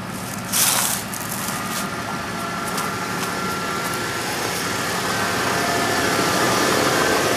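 A 1989 Lincoln Town Car engine runs steadily during a fuel pump test, a close, continuous idle hum with a faint whine and a brief rise near the start, heard alone without talk.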